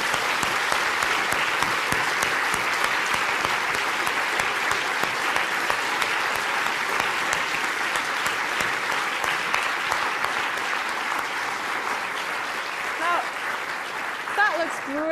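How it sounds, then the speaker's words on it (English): Large audience at a Royal Institution Christmas science lecture applauds in a steady, dense roar of clapping for fifteen seconds, with a few voices rising near the end. "round of applause."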